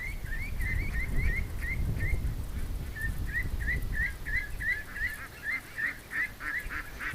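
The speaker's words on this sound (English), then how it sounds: "There's a whole bunch of ducks in the water though." Ducks on the water give rapid, repeated honking quacks in two quick bursts, heard fairly close over a low background rumble.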